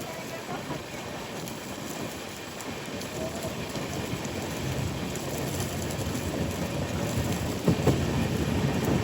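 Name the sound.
heavy rain outside a moving train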